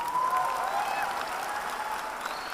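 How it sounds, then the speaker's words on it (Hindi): Stadium crowd applauding at a large indoor motivational event, a steady wash of many hands clapping throughout, fairly distant and dense, with faint voices mixed in. "यहां खड़े होकर लोग ताली बजा रहे हैं"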